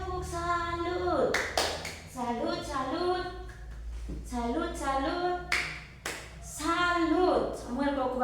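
A school class performs the 'tepuk salut' clapping cheer for a student named Samuel, chanting in unison with crisp, rhythmic hand claps interspersed between the young voices.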